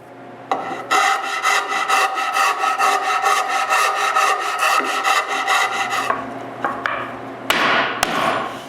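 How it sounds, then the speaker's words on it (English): Scroll saw cutting a wooden part for a homemade bandsaw, a rapid buzzing reciprocating rasp running steadily for about five seconds before stopping, followed by a few knocks and handling sounds. "I cut it with the scroll saw"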